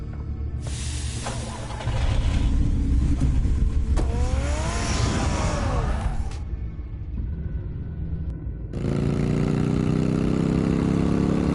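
A car engine in the video game Batman: The Telltale Series runs loudly, a steady mechanical drone with a revving rise in the middle, a brief drop and then a sustained hum.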